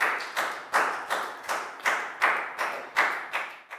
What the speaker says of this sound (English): And a big round of applause for everybody.